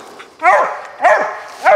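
A young raccoon hunting dog barks three times at a steady spacing, close and loud, each bark a sharp yelping bay with a short falling tail.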